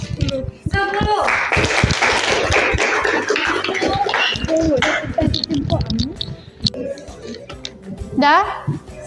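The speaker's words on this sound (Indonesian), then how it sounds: "tepuk tangan untuk kelompok" Applause in a classroom for a student group during a math lesson: a burst of clapping amid children's voices and scraping, with a teacher talking over the noise as it tapers.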